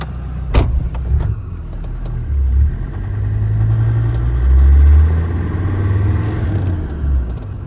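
A 1998 Land Rover Defender 90 with a performance-built Td5 diesel rumbles close by, dropping to a low idle and then pulling away with a steady engine drone that swells and fades; no one speaks.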